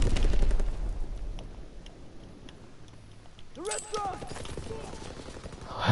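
Rifle and automatic gunfire in Call of Duty WW2 crackles as rapid, dense bursts of shots, loud at the start and again at the end, with a voice talking over the battle.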